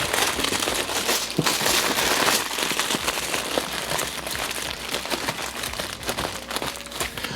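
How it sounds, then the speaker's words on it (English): Aluminum foil wrap crinkles and crackles as smoked beef cheeks are folded up and closed inside it, a close, continuous rustling with sharper crunches throughout and no talking. "now we're just gonna take the beef cheeks and get them in this foil wrap, just like so"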